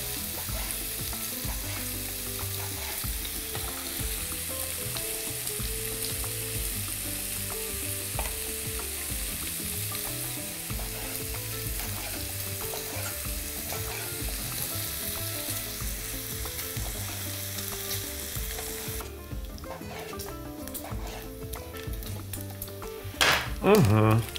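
Pork tenderloin cut into small pieces sizzles loudly in a frying pan for French-style cooking, a constant crackling hiss broken by stirring scrapes and clinks of utensils against the pan, settling into quieter clatter near the end.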